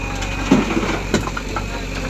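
A steady low tractor engine rumble runs throughout at moderate level, with a couple of brief clunks and knocks over the top, as tractors are loaded at a factory.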